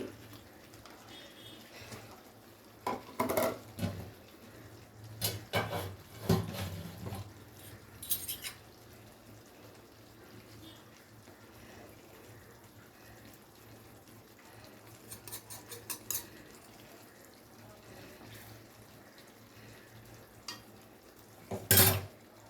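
Ghee is stirred into potol curry in a pan: a spoon scrapes and clinks against the metal in scattered bursts between quiet stretches, ending with a sharp clank.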